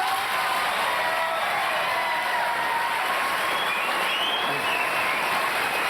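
A television studio audience at a late-night talk show breaks into loud, sustained applause with some cheering, a dense even roar of clapping that fills the whole stretch.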